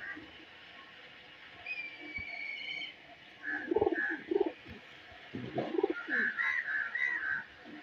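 A Teddy Golden pigeon in a Lahore loft coos in soft, repeated bursts at close range, with faint high chirps and quiet background murmur around it.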